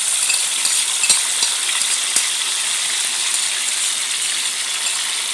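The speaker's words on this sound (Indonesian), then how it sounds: "Nah sekarang saya mau tumis ya sambalnya ya" Chili sambal stir-fries in a pan with a steady, bright sizzling hiss that stays loud and close throughout, broken by a few faint clinks and scrapes of stirring.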